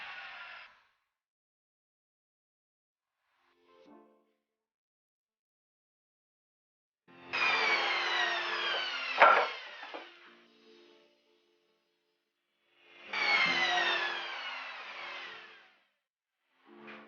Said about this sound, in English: Cut 2 plywood 18 mm with measure 80 mm x 20 mm.